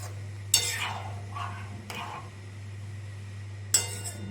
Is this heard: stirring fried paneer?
yes